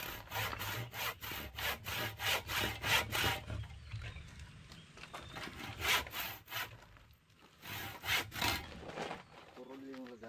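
A hand saw rasps back and forth through wood in steady, rhythmic strokes, pausing briefly midway before resuming, close and fairly loud.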